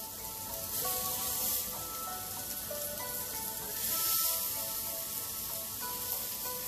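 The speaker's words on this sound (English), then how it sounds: "You hear that sizzle?" Steady sizzling of pork frying on a hot griddle over a butane stove, a close, continuous crackle with slight swells in intensity and no talking.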